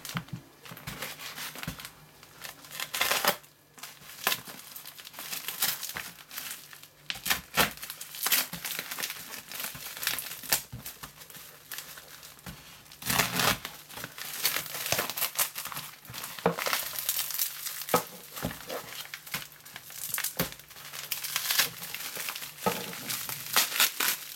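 Plastic wrapping on a mailed parcel holding a Lenovo S939 phone case and screen films crinkles and crumples continuously, close and loud, with sharp rustling bursts as the package is opened.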